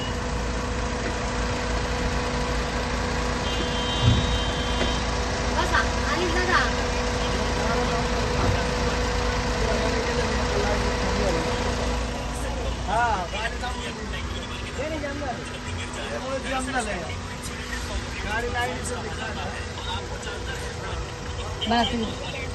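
Engines idle in a traffic jam on the Kalubai ghat road, a steady low rumble of waiting vehicles with a droning hum, while people talk over it throughout.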